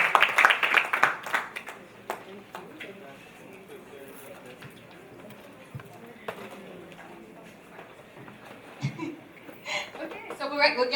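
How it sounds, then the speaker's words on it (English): Women at a wellness morning event give scattered applause, heaviest at the start and picking up again near the end, with speech and light laughter mixed in. "Yes, ladies, please give Datari a round of applause"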